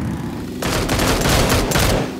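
Burst of rapid gunfire in the squad battle-royale game PUBG (Battlegrounds), erupting suddenly after a quiet moment and continuing as a dense, loud volley of overlapping shots for well over a second.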